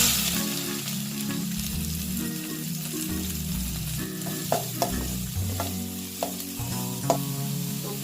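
Mustard seeds and chopped onion frying in oil for a Tamil raw papaya and pumpkin leaf side dish, a steady close sizzle with scattered seed pops and spoon stirring clicks throughout, no voices.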